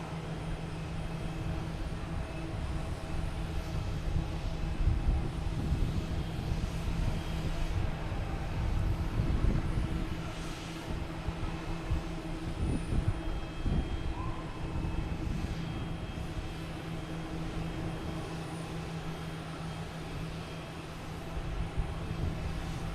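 An Avianca jet airliner bound for San Salvador rumbles at Boston Logan Airport, a steady broad engine roar with a low hum that swells slightly midway and persists without talk.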